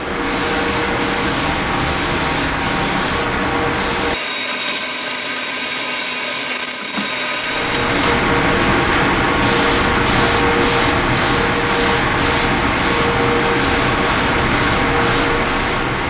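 Sanding sealer sprayed onto cleaned wooden chair parts being repaired after dog damage, a steady loud hiss broken by a short quieter pause, then bursts of spraying in rapid regular pulses toward the end.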